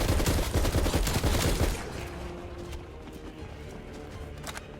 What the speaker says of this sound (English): this was tons of fun chasing this thing around the map and shooting all the zombies it leaves behind